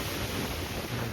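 Sea waves washing onto the shore near a coastal cave temple, a continuous, loud broadband rush blended with wind buffeting the microphone, no voices.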